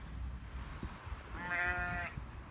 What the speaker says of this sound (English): Yeah, the sheep are getting fed,